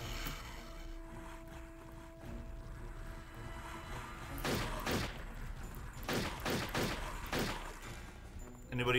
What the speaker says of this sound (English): Boom, proper gun.